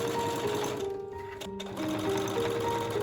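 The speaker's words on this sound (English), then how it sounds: "On some pieces I secured the boning to the horsehair braid with the machine" A sewing machine hums and rattles steadily, close, as it stitches boning onto horsehair braid for a couture petticoat, with a brief slowdown midway before running on.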